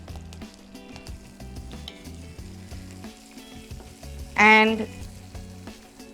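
Onions, green chili and curry leaves fry in a pan with a continuous close sizzle while someone talks over it; one brief louder tone cuts in near the end.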